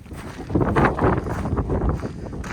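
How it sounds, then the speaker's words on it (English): Steady gusty wind buffeting outdoors on a chilly walk to Haifoss waterfall in Iceland, a broad rushing roar with swells and dips, close and fairly loud, no voices. "Weather is a little bit chilly and windy."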